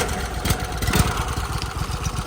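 A pressure washing machine's engine runs after starting, with a close, steady mid-pitched rumble and a slightly uneven chug that throbs through the whole stretch, with no talking.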